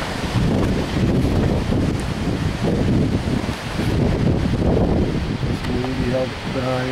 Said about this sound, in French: mais c'est du vent, pas à peu près ça